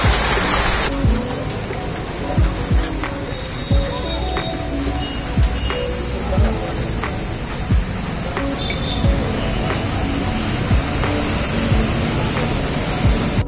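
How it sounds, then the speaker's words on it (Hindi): Steady heavy rain pours down continuously, a dense hiss of drops on surfaces with occasional louder splashes, close and loud throughout. "अब थोड़ी बारिश कम हुई है"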